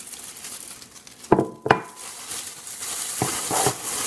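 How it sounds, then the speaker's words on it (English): Crab in a plastic bag with lemon juice, butter and garlic is shaken about, giving a few sharp knocks and thuds amid rustling and crinkling plastic, close and moderately loud. "So I just like to move the crab around in there. Shake it around."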